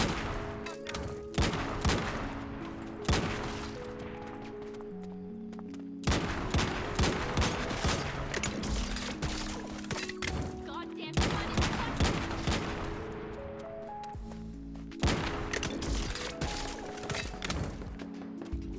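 Rapid gunfire from a weapon shooting flame explosive rounds in the survival shooter Once Human, loud sustained bursts with crackling impacts, broken by brief pauses and repeated several times.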